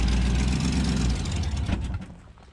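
A hot-rodded 1958 Chevy Biscayne engine idles low and rough in gear, a loud close rumble that weakens and tails off near the end.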